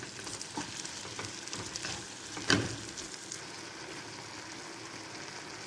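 Chopped onion and tomato frying in a pan for a Spanish omelette, with a quiet, continuous sizzle, faint stirring scrapes and one brief louder knock of the spoon near the middle.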